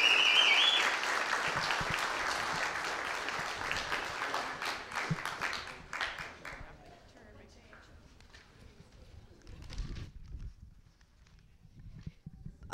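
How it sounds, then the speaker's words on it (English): Audience applause at an outdoor park pavilion ribbon cutting, a broad burst of clapping that is loudest at the start and thins out after about six seconds, with scattered claps and crowd noise trailing off. "a round of applause for the Friends for this terrific pavilion"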